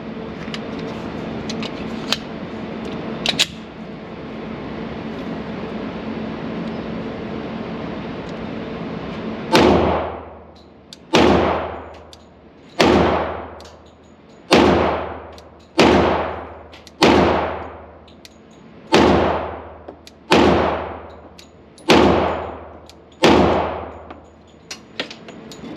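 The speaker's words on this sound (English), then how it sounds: "First up, we're gonna run the Glock 40." A Glock 40 Gen 4 MOS 10mm pistol fired at a steady, deliberate pace, about a dozen loud, sharp reports each ringing out in a decaying echo, preceded by quiet ambient noise and a few small clicks.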